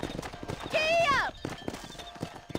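Horse hooves clop in Red Dead Redemption, a quick, near run of hoofbeats broken by a bright, rising whinny partway through.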